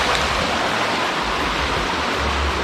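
Steady broadband rushing of river water flowing nearby, loud and constant across the whole stretch with no voices.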